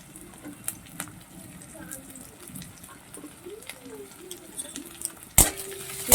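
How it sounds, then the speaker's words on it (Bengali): Fish frying in a pan with chopped capsicum being added, a soft steady sizzle with light scraping and stirring, then a sudden louder splash of sizzle near the end as the pieces go in. "লাল লাল করে ভাজা হয়ে আসছে এবারে একটা ছোট ক্যাপসিকাম কুচিয়ে রেখেছিলাম সেটা দিয়ে দিচ্ছি"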